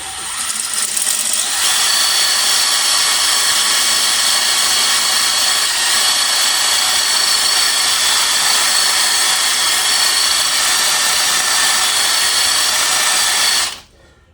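A drill-driven hone busts the glaze in a cylinder bore of a VW 1.6D engine, producing a loud, steady, high whine that runs for about thirteen seconds and then cuts off abruptly.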